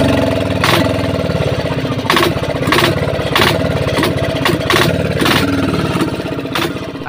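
A steady, loud engine chugs and drones throughout, with rhythmic mechanical knocking riding on a low idling hum.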